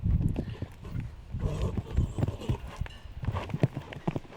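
A horse's hooves thud across an arena during a showjumping round at a CSI 2* Grand Prix, a steady near cantering rhythm of dull beats over a busy background murmur.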